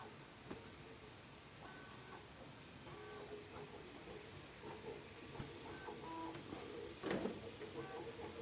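A 3D printer running, its stepper motors whirring in short tonal bursts and rhythmic mechanical ticks, faint and somewhat distant against a quiet room.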